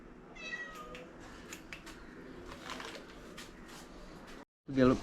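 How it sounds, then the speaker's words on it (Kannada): A house cat meows indoors, one short cry near the end after a brief silence, while people talk and there is shuffling and rustling nearby. "ಬೆಕ್ಕು ಸಹ ಇದೆ ಮಾರಿ ಇವರ ಮನೆಯಲ್ಲಿ"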